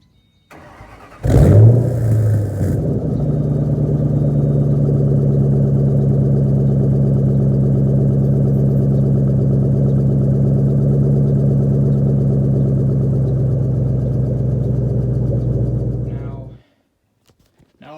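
A 2005 Ford Mustang GT with a head gasket repaired using a sealant cranks briefly, catches and settles into a steady, loud idle that runs evenly for about fifteen seconds before shutting off.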